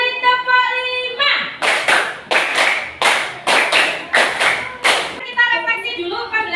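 Classroom of children clapping a five-clap pattern twice, about eight to ten crisp rhythmic group claps in quick succession, framed by a teacher's speaking voice before and after.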